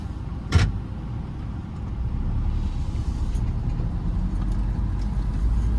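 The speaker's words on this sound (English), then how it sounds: "We are now going to take this car on a little" A car drives along a quiet country road, giving a steady low engine and tyre rumble heard from inside, with a brief thump near the start and no talk.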